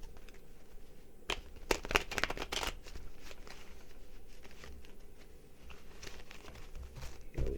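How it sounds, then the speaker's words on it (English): Playing cards shuffled by hand: a short cluster of quick, faint riffling bursts early on, then soft papery rustling in a quiet room with no talking. "Feel like I need to shuffle."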